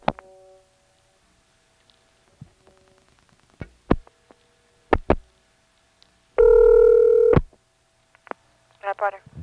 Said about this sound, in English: When I tried dialing 8 plus 0 from Pendergrass, it did go to the operator